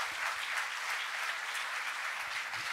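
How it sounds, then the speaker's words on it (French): Applause fills a lecture amphitheatre at an addiction-medicine conference, a dense, even patter of many hands clapping, moderately distant and continuous throughout. "On peut encore applaudir"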